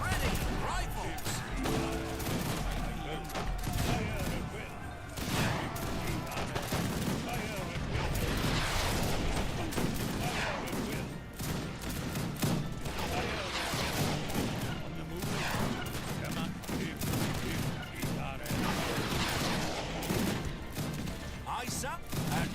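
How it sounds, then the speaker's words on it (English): Repeated musket volley fire from rifle infantry in Age of Empires 3 Definitive Edition, rolling crackles and booms that keep coming as a steady battle din, with voices speaking throughout. "Rifles at the ready."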